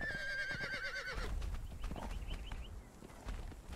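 In the video game Conan Exiles, a horse gives a short, shrill whinny, then its hooves thud and clop at close range for a few seconds.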